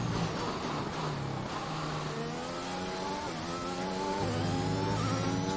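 F1 car engine at the Spanish GP in the video game F1 2021, a loud, continuous high-revving engine with rising pitch sweeps as gears shift, running alone without talk.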